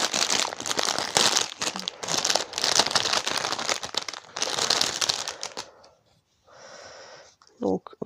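Crinkly plastic packaging of a Chinese zodiac animals cross-stitch craft kit is torn and crumpled open in loud, continuous bursts for about six seconds, then a brief rustle and one sharp crackle after a pause.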